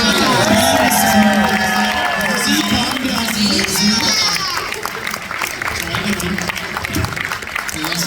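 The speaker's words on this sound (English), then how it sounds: "But give them a round of applause." A Fan Expo Canada 2024 crowd at a Letterkenny reunion panel applauds and cheers, with whoops and scattered voices rising over steady clapping, the noise loudest early and then settling into lighter clapping and chatter.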